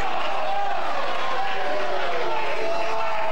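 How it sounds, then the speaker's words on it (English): A noisy American Legion baseball crowd from New Capital roars and chatters continuously at Boston Field, a dense, loud wash of cheering with a voice audible over it. "The noisiest of all Legion crowds has to be New Capital. You can tell they're here."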